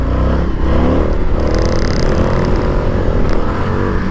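An Indian FTR 1200 motorcycle revs hard and steadily for a wheelie attempt, its loud engine roar close and continuous with rattly mechanical clatter throughout.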